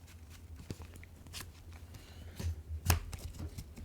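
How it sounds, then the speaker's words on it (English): A deck of trading cards is shuffled close by in a quiet room, giving soft riffling and tapping bursts that grow louder toward the end. "shuffle our deck for the second and last draw"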